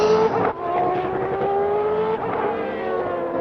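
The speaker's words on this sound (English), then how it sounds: "Damon Hill's Renault engine has expired on lap 42 of the British Grand Prix" Damon Hill's Formula 1 car with a failing Renault engine at the 1993 British Grand Prix roars loudly and steadily, then gives a sudden cut and stutter early on before the engine din continues.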